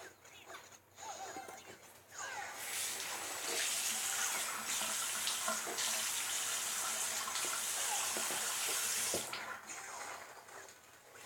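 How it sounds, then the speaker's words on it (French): Water runs from a tap in a steady gush that starts a few seconds in and cuts off near the end, loud and close with a faint background. "Si vous avez entendu de l'eau, c'est normal."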